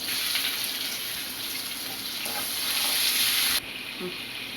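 Onion with cinnamon, clove and bay leaf frying in groundnut oil for mutton kolambu, a loud continuous sizzle with steady hiss that drops suddenly near the end, a light clink following.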